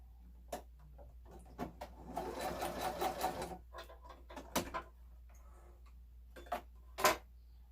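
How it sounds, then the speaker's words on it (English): A sewing machine basting across fabric on its longest stitch length, with a run of steady mechanical stitching in the middle and scattered clicks and taps before and after, close and fairly quiet. "it's just where you put your sewing machine on the longest stitch it has, and you don't back stitch"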